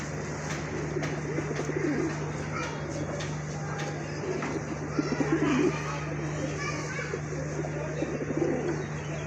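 Pigeons coo softly and repeatedly nearby at a pigeon market over a steady electrical hum, with faint voices and other bird sounds in the background.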